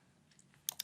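Two sharp computer mouse clicks land close together near the end of a short, quiet stretch while working in Fusion design software.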